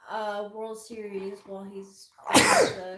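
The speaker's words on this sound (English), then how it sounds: "Sorry for interrupting you with my sneezes." A single sharp sneeze bursts out loud and close right after a stretch of men's conversation at a night party.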